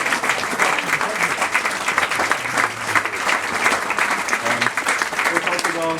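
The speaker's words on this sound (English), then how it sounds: "if we could collectively give English a massive round of applause because they've done amazing." Loud, dense round of applause from a gathered team at a good-news briefing, continuous clapping throughout with no pauses and some murmured voices underneath.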